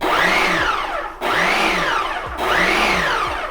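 A Ninja PrecisionPro food processor runs in three quick chopping bursts, each a loud whirring blade pulse with a rising and falling motor pitch, separated by brief cutoffs.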